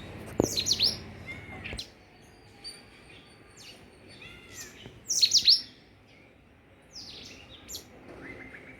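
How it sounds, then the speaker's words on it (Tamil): A black drongo calls in short bursts of sharp chirps and whistled notes, with quieter gaps between outbursts, heard alone over faint background hum. "ஒரு கருங்குருவி பாருங்கள் அழகாக கத்திகிட்ருக்கு"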